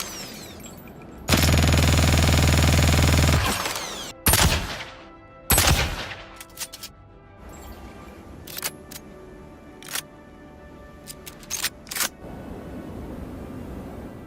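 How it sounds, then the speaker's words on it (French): Gemini F55 gun and Castac Arms Scalpel sniper rifle firing in the Star Citizen game: a long loud sustained automatic burst, then a few heavy single sniper shots and scattered sharp clicks and mechanical handling sounds. "Je vous laisse profiter des effets audio de la Gemini F55 et du fusil de précision Scalpel de Castac"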